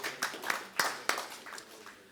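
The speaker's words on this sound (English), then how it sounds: "Can I ask for a very hearty round of applause for Professor Mishra, Professor Brahma, and Professor Gupta" A few scattered claps after a business law and ethics panel event, sparse and fairly faint, several sharp hand claps spread over two seconds rather than full sustained applause.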